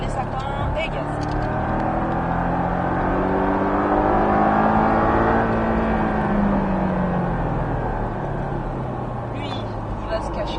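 A Porsche 718 Cayman S accelerating hard on the Bresse race circuit, its engine note rising steadily and loud throughout, close up from inside the cabin, with a voice talking over it.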